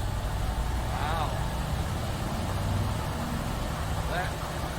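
A 1978 Mercury Marquis engine, with its distributor cap refitted, idles for the first time in 15 years: a steady low rumble that holds evenly throughout, with faint voices now and then over it.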